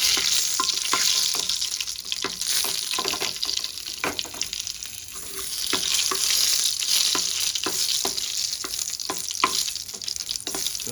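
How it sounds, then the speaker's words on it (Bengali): Two dry red chillies frying in hot oil in a pan, a steady close sizzle with scattered sharp crackles and pops throughout. "লঙ্কাটা একটু আমি ভেজে নেব।"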